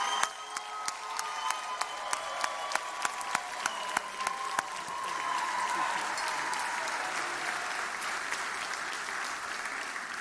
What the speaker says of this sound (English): Can we all give a standing ovation